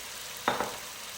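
Mutton pieces with bone dropped into a pan of salted ginger-garlic spice masala for Kolhapuri mutton pickle, giving a brief sizzle and stir burst over a steady low frying hiss.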